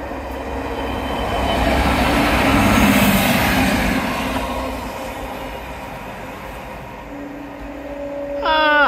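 A train rumbles past along a seawall at Teignmouth, its roar building to a peak and then fading, before a short melodic horn-like tone sounds at the end.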